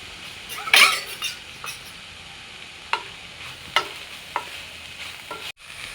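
Momo filling with salt, cumin, chili and spices stirred in a pan, a soft sizzle underneath as a spoon scrapes and taps the metal in a few sharp, separate knocks, close and alone.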